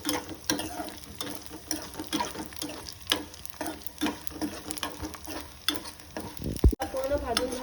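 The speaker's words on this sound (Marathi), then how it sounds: "आता आपण तुपामध्ये थोडासा डिंक भाजून घेणार आहोत" Edible gum resin frying in hot ghee while being stirred, with steady crackling sizzle and repeated scraping strokes of a spoon in the pan, close up with no voices.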